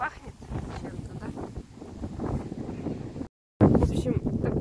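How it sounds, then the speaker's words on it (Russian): Wind gusts on a blustery early-April day, buffeting the microphone with steady low rumbling under a man's speech, with a brief dropout near the end. "Ветреный денечек выдался, друзья"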